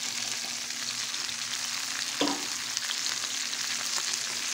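Onion sautéing in hot oil alongside sliced calabresa sausage in a pan, a steady close sizzle with a brief stir-scrape partway through, no voices.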